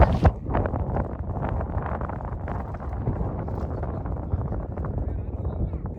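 Strong gusting wind buffets the microphone on a misty mountain descent of the Agathiyar hills in Pothigai, a steady loud rumble running throughout with faint talk beneath it.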